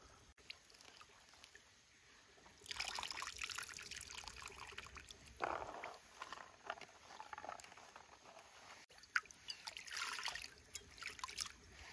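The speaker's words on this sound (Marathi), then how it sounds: "कुकरमध्ये आहे ना आपण थोडंसं पाणी टाकलंय" Water trickling and splashing into a pressure cooker for boiling cauliflower while camping in a forest, quiet at first, then bursts of pouring patter that come and go.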